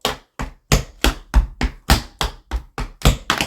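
Tap shoes strike the floor in quick sharp riffs, a string of about a dozen crisp, close taps and scuffs in an uneven rhythm, with no voice.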